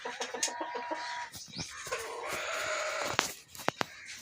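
Egyptian Fayoumi and tiger chickens at a poultry farm cluck and call in a busy, overlapping stream, with several sharper squawks near the end and no talking.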